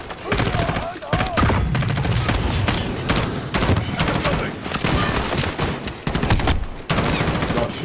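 Dense gunfire in Call of Duty Modern Warfare, loud sustained bursts of automatic weapons and rapid shots with brief gaps, with a player's voice talking over it.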